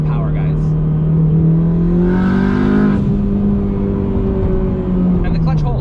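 A turbocharged K20 engine in an 8th-generation Honda Civic Si revs up through first and into second. A loud, steady engine drone rises in pitch, with a brief whooshing swell mid-pull and someone talking over it.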